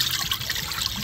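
Soaking water made with vinegar, salt and cold water pours off mojarra fish, a brief steady trickle and splash heard close and alone.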